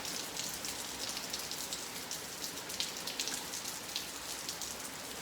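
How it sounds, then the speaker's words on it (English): Heavy rain pours down steadily, a dense hiss of drops pattering on surfaces throughout, with no voices. "Wow, it's coming down. Listen to that noise."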